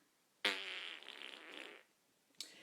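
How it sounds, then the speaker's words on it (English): Walter the dog lets out a cartoon fart sound effect: one long, buzzy, sputtering blast of over a second, then a short second burst begins just before the end. "Walter farted in alarm"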